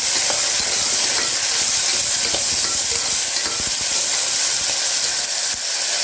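Tomato fries in hot oil for bagara rice, a loud, dense, continuous sizzle with stirring scrapes throughout, close and unbroken, and no voices.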